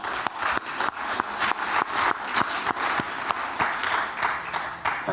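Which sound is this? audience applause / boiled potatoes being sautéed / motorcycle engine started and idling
audience applause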